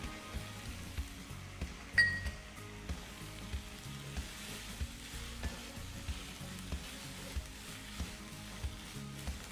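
Corn and mixed vegetables stir-fry in a pan for spinach stir-fry rice, a steady close sizzle broken by regular soft scrapes and clinks of stirring, with no voices.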